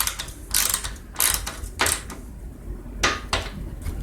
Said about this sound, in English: I'm going to tighten that down until it stops.